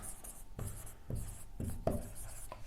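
A pen writes out math work on paper, producing close, faint scratching strokes in several short bursts with brief pauses between them.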